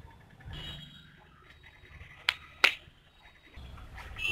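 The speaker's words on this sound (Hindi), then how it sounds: "दो बार ताली बजाएगी" Two sharp, isolated claps a fraction of a second apart, close and crisp against a quiet indoor background.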